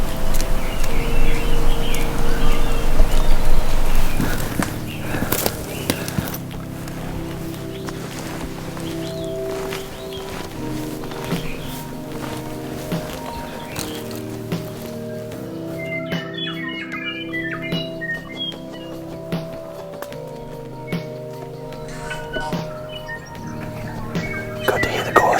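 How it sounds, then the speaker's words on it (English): Native birds calling in the bush during a fallow deer hunt, thin scattered chirps that rise out of a low, steady background, faint and somewhat distant, with no talking over them. "Good to hear the chorus of the birds."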